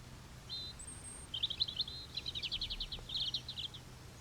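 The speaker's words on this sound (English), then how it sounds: "only natives like blackbird and robin are singing" Blackbird and robin singing in a British forest in early spring: a faint, distant run of high, quick warbling phrases and thin whistles over quiet woodland background, with no talk.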